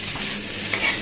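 Garlic and shallots sizzle and fry in a pan for a crab soup, a steady close hiss with a light stir near the end, no talking over it.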